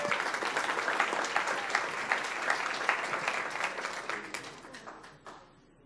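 Audience applause honoring a school counselor at a Palm Beach County recognition event, full steady clapping that slowly fades out over about six seconds.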